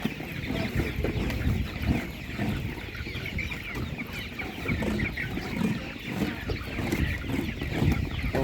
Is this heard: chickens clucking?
yes